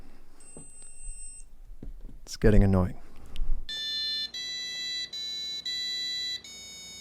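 A loud active electronic buzzer, its sticker removed, beeps on and off in steady, evenly spaced bursts, following a brief burst of talking and some handling noise.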